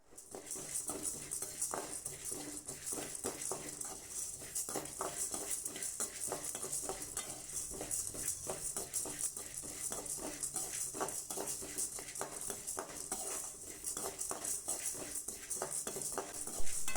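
Dal lentils dry-roasting in a pan for homemade sambar powder give a faint, steady dry rattle with light scraping stirs, quiet and even throughout, with no talk.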